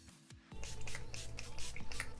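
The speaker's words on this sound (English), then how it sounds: "I'm gonna go in with my Tatcha Dewy Skin Mist" Tatcha Dewy Skin Mist spritzed onto the face, a few quick soft hissing sprays close to the microphone in rapid succession after a brief click of the pump.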